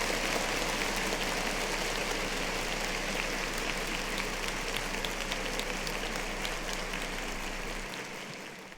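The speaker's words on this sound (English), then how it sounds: "Clap it up for that." Dense, steady clapping from a show audience fills the space, sustained and fairly even before tapering off in the final second.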